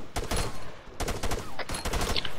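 Rapid bursts of automatic gunfire from a video game firefight during a hostage rescue, loud and close, in several dense volleys with brief gaps between them.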